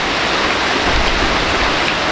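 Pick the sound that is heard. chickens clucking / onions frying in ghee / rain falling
rain falling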